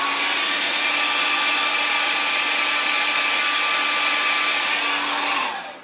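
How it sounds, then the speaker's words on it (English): A hair dryer blows with a steady, loud whirring roar close by onto a mini wind turbine, then switches off and winds down at the end. "so if I just quickly put a hairdryer on it"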